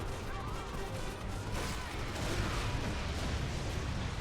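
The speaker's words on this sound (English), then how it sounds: "Thermonuclear explosions are not a fun time." Thermonuclear explosions in the video game Endgame Prototype roar as a dense, continuous broadband rumble and crash, loud and sustained, swelling slightly halfway through with no clear pauses.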